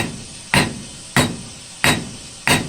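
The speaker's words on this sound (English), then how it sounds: "drop this through our bolster, give it a couple taps" Four evenly spaced metallic hammer taps ring out on a lag bolt set in a blacksmith's bolster, each a sharp strike with a short ringing decay, alone and close.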